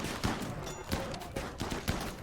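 Gunfire in the video game RimWorld: several sharp, rapid bursts of shots repeat about every half second over a steady background of battle noise, with no talking.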